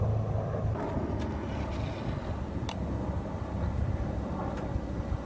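An orange medical evacuation helicopter flies somewhere off in the distance. Its low, steady rumble mixes with wind noise for the whole stretch.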